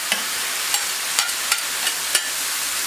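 Onions sizzle steadily on a hot plancha griddle, a dense close hiss broken by regular scraping strokes as they are pushed toward the back to finish cooking.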